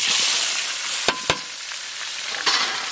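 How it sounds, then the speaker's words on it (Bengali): Cumin, bay leaves, dry chilies and onion fry in hot mustard oil, giving a loud, steady sizzle with a few sharp spatters, close up and without speech. "তেল আমাদের গরম হয়ে গেছে, তারই পাশাপাশি জিরে তেজপাতা আর শুকনো লঙ্কা দিয়ে দেব।"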